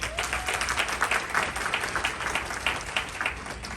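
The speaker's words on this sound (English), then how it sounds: "Please give them all a round of applause." Audience applause for a panel at a community mental health event with Waco schools, a steady wash of many hands clapping throughout, fairly close and dense with no speech.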